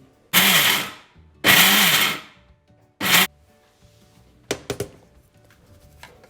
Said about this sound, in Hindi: हम सारी चीज़ों को ग्राइंड कर लेंगे। हम एक साथ ग्राइंड नहीं करेंगे, हम पल्स पे करेंगे।